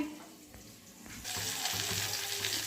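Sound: vegetables frying in oil with spices

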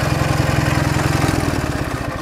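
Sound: Ural motorcycle engine running before being shut off

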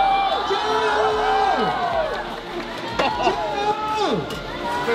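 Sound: crowd applause and cheering for eating challenger

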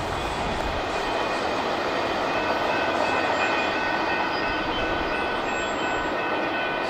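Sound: CSX IO-17 freight train passing

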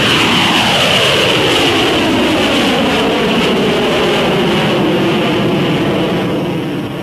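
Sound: McDonnell Douglas FA-18 jet taxiing and climbing

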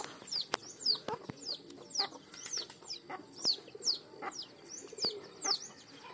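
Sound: hen and chicks

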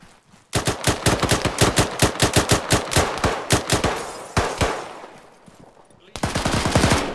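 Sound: gunfire in a video game

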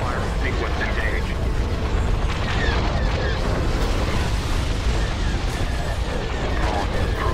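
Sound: starship weapons firing in a Star Wars video game

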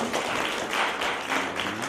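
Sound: audience applause

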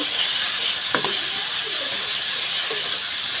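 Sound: chili, coriander and turmeric spice paste frying in pan

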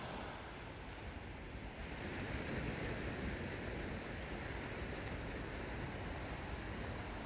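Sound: wind and choppy sea at the shore

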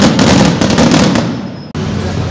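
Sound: fireworks going off in the street

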